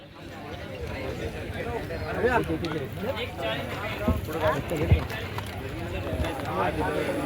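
Hooves pound and bullock carts rattle past amid a noisy crowd, with voices shouting throughout a lively bullock cart race.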